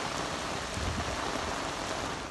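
A heavy rain downpour falling steadily during a night storm in Edirne that flooded streets, a dense, even hiss of water hitting surfaces throughout, loud and unbroken with no voices.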